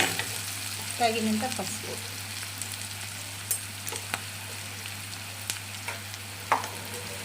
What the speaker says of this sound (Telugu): మామిడికాయ చిత్రాన్నం పసుపు వాసన పోయేదాకా వేయించాలి.